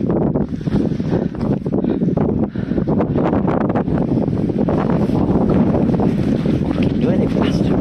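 Strong outdoor wind buffets the microphone during a wild camping trip, roaring and gusting loudly and unevenly throughout, with no clear speech.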